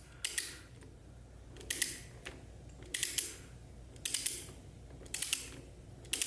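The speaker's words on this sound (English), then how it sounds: "Now I'm going to be torquing this down to 6 foot-pounds." Torque wrench drawn down on a bolt of an APEX steering boost kit on a Jeep JL/JT, giving five evenly spaced bursts of quick ratcheting clicks with quiet gaps between them, close up and alone.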